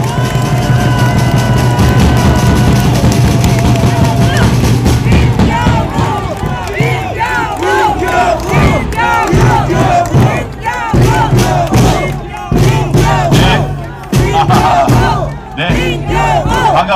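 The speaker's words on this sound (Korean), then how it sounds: "우리 민경욱 의원과 함께 뜨거운 박수 부탁드리겠습니다." Large outdoor political rally crowd greeting a politician's arrival, loud massed shouting and cheering that swells and falls in rhythmic waves, with chanting voices and background music, close and continuous.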